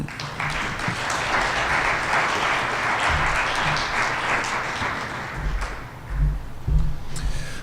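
An audience at a lecture applauds to welcome speaker Dr. Bruce Ashford, a dense, sustained round of clapping that swells and then thins out toward the end.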